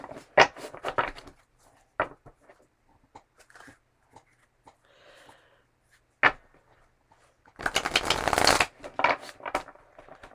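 Tarot cards being handled and shuffled close by: a few sharp flicks and taps, quiet gaps, then a dense riffling burst near the end, with no talking.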